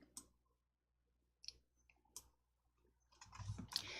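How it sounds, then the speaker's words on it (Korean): Computer mouse clicks on a confirm button in Excel: a few sharp, isolated clicks spaced apart in a quiet room, followed by a short cluster of fainter clicks and rustling. "확인을 클릭."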